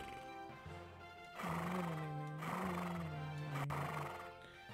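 Horses in a PS1 horse racing video game, heard as a loud, drawn-out whinny with a pitched, wavering neigh over faint hoofbeat clatter, with a softer lead-in before it.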